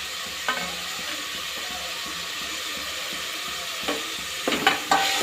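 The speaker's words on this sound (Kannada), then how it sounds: "ಈಗ ಇದಿಷ್ಟು ಚೆನ್ನಾಗಿ ಫ್ರೈ ಆಗಬೇಕು." Soaked peas fry in a pan for menthe pulao with a continuous gentle sizzle, punctuated by a few sharp scrapes and clinks of a spoon stirring near the end.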